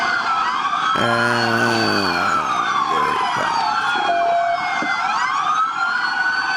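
Police sirens wail loudly in a video game, several emergency sirens sweeping and overlapping continuously over engine noise, with a low horn-like blare early on.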